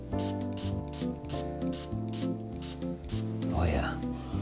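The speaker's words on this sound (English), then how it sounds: "I'm just gonna spray like, 8 to 10 sprays." An atomizer mists the inside of a cocktail glass for a Sazerac with a rapid series of about eight short, hissy sprays in a steady rhythm over soft background music.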